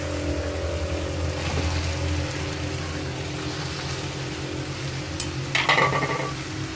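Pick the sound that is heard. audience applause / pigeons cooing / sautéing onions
sautéing onions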